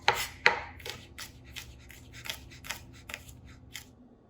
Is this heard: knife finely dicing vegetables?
yes